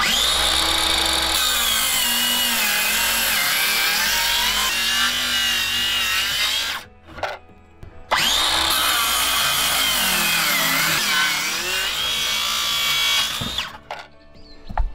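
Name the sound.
power saw cutting deck boards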